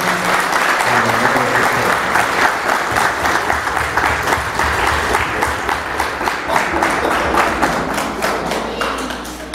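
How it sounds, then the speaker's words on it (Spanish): Wedding guests at a church ceremony in Mezquitillo, Villa de Cos break into loud, sustained applause with a few thumps, the clapping steady and close throughout before easing slightly at the end. "Les damos un fuerte aplauso."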